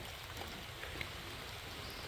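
Steady rain patters and hisses in a forest outdoors near an elephant, a constant wash of drops with no talking.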